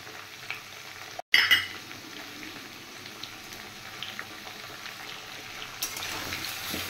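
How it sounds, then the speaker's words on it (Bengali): Potatoes and shola kochu frying with salt and turmeric in a home kitchen: a steady, quiet sizzle with occasional clinks of a spoon against the pan and one brief sharp knock. "এবার নুন হলুদ দিয়ে আমি একটু আলু আর কচু ফ্রাই করে নেব ভালো করে।"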